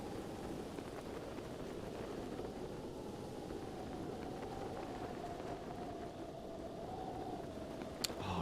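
Steady rain falls in The Legend of Zelda: Breath of the Wild near Zora's Domain, a continuous dense hiss that runs unbroken throughout, with a low tonal game ambience beneath and a brief sharp tick near the end.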